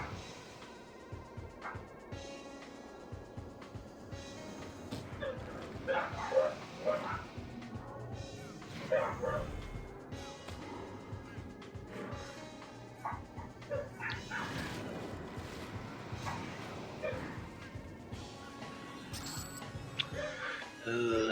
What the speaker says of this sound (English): Can you guys hear the dogs barking on the stream?